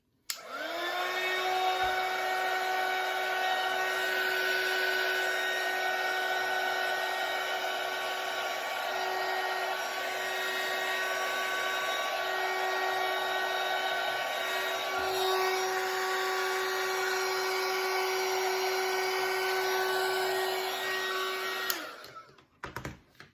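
A heat gun whirs loudly and steadily with a high whine for about twenty seconds while heating Worbla thermoplastic, then switches off abruptly.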